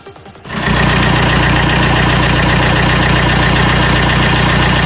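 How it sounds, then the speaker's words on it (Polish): A Mercedes W245 180 CDI diesel engine starts after a brief quiet moment and then idles with a loud, steady knocking clatter during an injector leak-off test, close by and without talk. "włączamy silnik"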